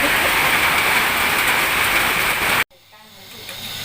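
Steady rain pours down hard at a roadside spot where cement is about to be poured, a dense loud hiss that cuts off abruptly near the end, leaving quiet background.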